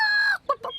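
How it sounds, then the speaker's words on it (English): A hen clucks in short, close bursts, a longer squawking call followed by two quick clucks. "It's a hen."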